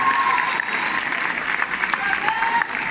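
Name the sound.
audience applause for the young people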